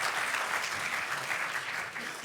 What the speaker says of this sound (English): And a round of applause, please, to Paolo Frankel.